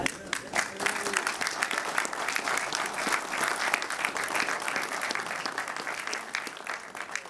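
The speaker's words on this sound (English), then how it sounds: "we'd like to give you a round of applause" A seated audience at a pigeon association's national membership meeting applauds the show helpers, steady dense clapping filling the room throughout with no pauses.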